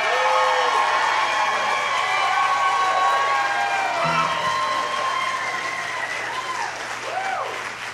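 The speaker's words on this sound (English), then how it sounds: "Can we have a fantastic round of applause for Ryder Markham?" A crowd at a jam camp show applauds and cheers for Ryder Markham, the camp's youngest-ever drummer, with steady loud clapping and whoops that hold for the full stretch, and a voice rising briefly over the noise.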